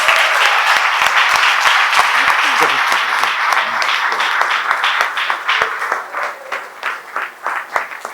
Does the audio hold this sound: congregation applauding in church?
yes